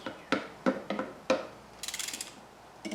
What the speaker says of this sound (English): So I'm just going to hold it with the wrench and tighten this down.